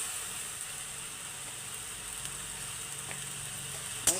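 Spices with salt and turmeric fry quietly in a pan, a faint steady sizzle with an occasional light scrape and one sharp knock near the end. No one speaks.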